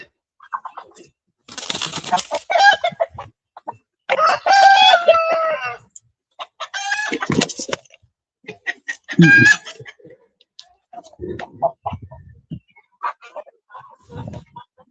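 Golden Comet chickens at a coop cluck and crow loudly and close by in a string of separate bursts with short gaps between them, and no voices can be heard.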